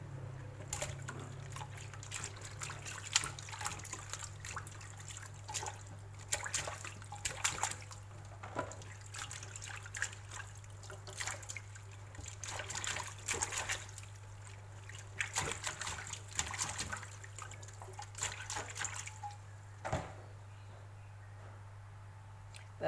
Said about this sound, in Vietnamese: Có rau muống là mình rửa cho sạch lên, tại vì rau muống thì nó cũng dơ lắm.